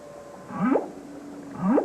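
Humpback whale song: two loud rising moaning calls, each sweeping upward and ending in a brief squeal, spaced about a second apart over a faint hiss.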